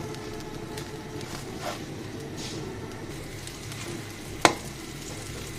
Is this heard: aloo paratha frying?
yes